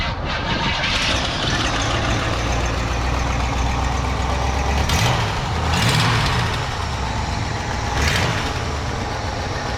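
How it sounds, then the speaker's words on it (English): A 1967 Cadillac Deville with a 429 V8 cranks and settles into a loud, steady, rumbling idle close by, with a few swells in revs; no talk. "now we're gonna start it up and listen to that engine purr"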